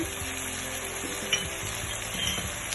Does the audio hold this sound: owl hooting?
no